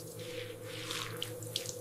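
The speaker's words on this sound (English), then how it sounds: "I take a shower." Water runs steadily from a bathroom shower with small splashes and drips, fairly quiet and continuous with no voices.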